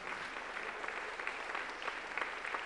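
Soft, distant clapping from a concert crowd at an international guitar festival, honoring an orchestra; an even, low-level patter with no pauses.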